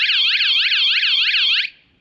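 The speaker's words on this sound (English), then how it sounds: "it's going to give you that nice little warning alarm to whoever's just maybe bumped into your van or tried opening the door that it's alarmed" A van alarm system sounds its warning, a loud electronic siren sweeping up and down in rapid repeated cycles before cutting off abruptly.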